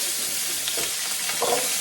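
Vegetables such as potatoes, carrots or eggplant fry in a hot kawali, giving a steady close sizzle with small crackling bursts throughout.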